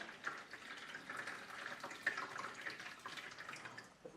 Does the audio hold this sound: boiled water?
yes